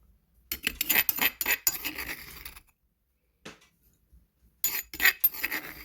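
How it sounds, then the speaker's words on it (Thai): Peanuts are scooped with a spoon into a Thai noodle salad with squid and seafood sauce, giving bursts of clinking and rattling against a dish, then a pause, a faint scrape, and another short clatter. "แล้วก็ตักถั่วลงไปนะคะ"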